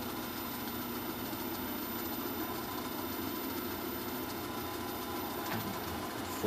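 A polishing wheel loaded with 15,000 grit paste spinning just under 1800 RPM, producing a steady, loud, even motor whir with no change throughout.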